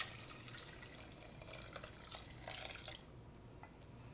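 Three cups of water pour into a cooking pot for quinoa, a faint, soft splashing and trickling that runs steadily and fades near the end in a quiet room.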